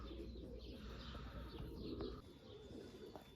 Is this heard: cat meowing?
no